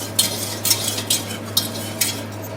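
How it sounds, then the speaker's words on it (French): A spoon or whisk stirs a butter and flour roux for béchamel in a pan, five quick scraping strokes in a steady rhythm over a soft low hum, with no talking. "on le mélange assez régulièrement, on fait bien attention au coin, comme ça ne brûle pas"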